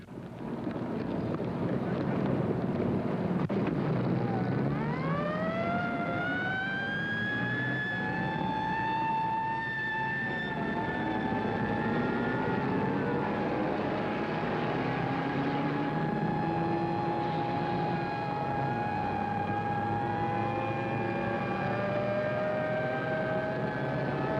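A large four-engine propeller aircraft with its number 4 engine on fire, approaching for an emergency landing, drones loudly and steadily with a rising, shifting engine whine under constant wind-like roar.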